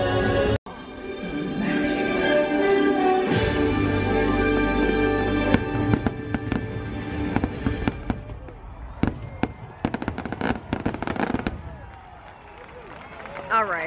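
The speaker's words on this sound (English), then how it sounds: "that's like one step above your local 4th of July fireworks show" Fireworks at a Disney theme park: a steady roar of bursts and sharp crackling pops through the second half, with crowd noise and people talking nearby throughout.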